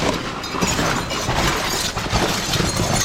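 Broken glass shattering and crunching in a dumpster among a few metal pieces, a dense, continuous gritty clatter filling the clip at steady loudness with no talk.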